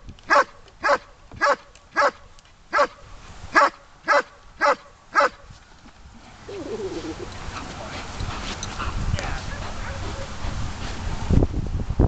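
A frightened dog during training gives about nine sharp, evenly spaced barks over five seconds, close and loud, then stops, leaving a duller stretch of low rumbling background noise.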